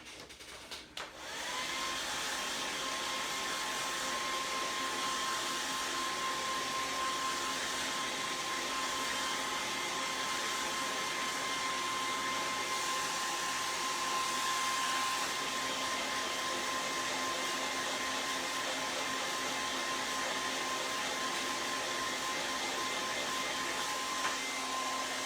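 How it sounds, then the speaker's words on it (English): A hair dryer switches on and runs continuously, a steady whooshing blow with a faint whine, drying red paint on a primitive Raggedy Ann doll face, with no speech. "I'm gonna go ahead and give these a little bit of a dry with a dryer."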